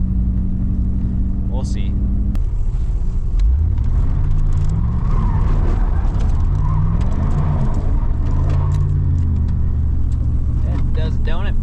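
A project car spins donuts, its engine surging and dropping in repeated sweeping revs, loud and close, while someone talks over it.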